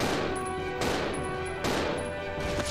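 Gunfire from the Resident Evil 0 game, with about four loud, sharp shots spaced roughly evenly, each leaving a short echoing decay.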